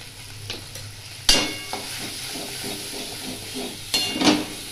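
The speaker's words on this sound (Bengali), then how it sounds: "ছানাটা একটু ভাজা ভাজা হয়ে গিয়েছে।" Cottage cheese (chhana) frying in a pan with a little turmeric and coriander powder, a close, lively sizzle broken by sharp scraping stirs of a spatula against the pan.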